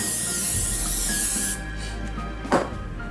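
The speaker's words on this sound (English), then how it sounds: "I'm gonna spray it" Spray bottle misting onto pizza bread in a kitchen, a steady close hiss for about a second and a half, then quieter room noise and one short sharp spritz.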